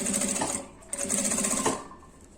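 A sewing machine hums steadily as it stitches fabric for an essential oil holder, running in two bursts with a brief pause between them, loud and close with no voices.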